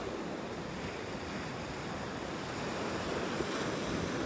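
Ocean surf breaks at Delnor-Wiggins beach in North Naples, Florida, a continuous wash of waves heard close and fairly loud, mixed with wind buffeting the microphone, with no voices.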